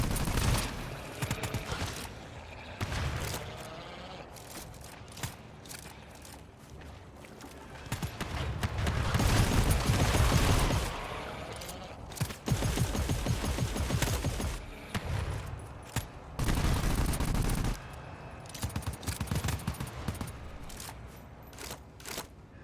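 Gunfire in the co-op shooter game GTFO, with bursts of rapid shots and clattering impacts rising and falling throughout, loudest in a dense stretch near the middle, with no talking.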